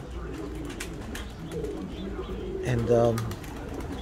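Pigeons coo close by in a low, throaty, rolling call that rises near the end, over a murmur of other birds and a brief spoken word.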